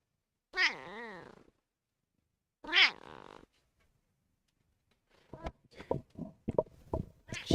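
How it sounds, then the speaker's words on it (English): Leia, a talkative Bengal cat, lets out two drawn-out, wavering meows close by, a pause between them, then people begin talking. "She's such a talkative cat."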